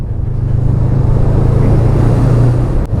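A Honda CMX 500 Rebel's engine and stock exhaust run steadily and loudly close by, a continuous low throb with the rumble of riding on a road.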